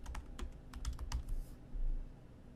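Quick clusters of key clicks on a computer keyboard as a file name is typed, close and crisp, with short pauses between bursts and no talking.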